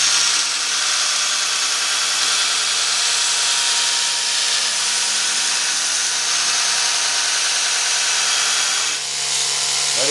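A new 2x72-inch belt grinder with a worn belt grinds a piece of mild steel, a loud, steady, high-pitched abrasive hiss and motor whine lasting throughout, dipping briefly near the end.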